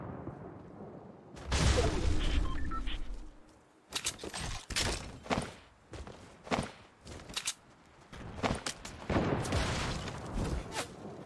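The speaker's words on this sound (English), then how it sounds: "More fireworks. I always wanted that." Fireworks in the video game Fortnite crack and burst in a rapid irregular series of sharp loud pops and booms, with brief gaps between clusters.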